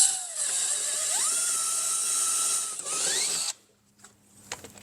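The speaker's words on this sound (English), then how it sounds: "and drill our final hole" A cordless drill bores the last hole for a fender on a 2024 Polaris RZR XP 1000, its shrill, close whine sliding up and down in pitch as the bit bites, then stopping abruptly, leaving light handling clicks.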